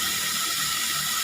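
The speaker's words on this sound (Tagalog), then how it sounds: "Lagyan po natin tubig para hayaan natin siya na naikot." Tap water runs steadily into a washing tub of laundry being rinsed, a continuous broadband hiss and splash with no pauses and no talk.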